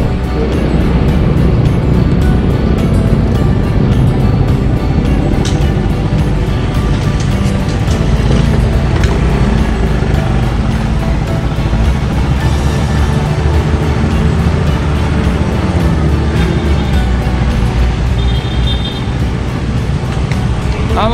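A stock Suzuki Raider 150 motorcycle on a test ride in Mindanao, its engine droning loud and continuous with rushing wind and road noise throughout, no clear gaps.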